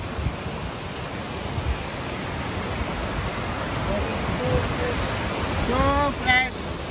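Gollinger Waterfall in Salzburg, Austria, rushing as a steady, broadband roar of white water throughout, with a few exclaimed voice fragments near the end.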